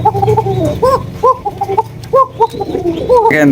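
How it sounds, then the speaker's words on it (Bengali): A pair of red Rajgolla pigeons coo up close in a series of short, repeated throaty calls, with faint background noise between them. "একজোড়া রাজগোল্লা কবুতর রেড কালারের মধ্যে"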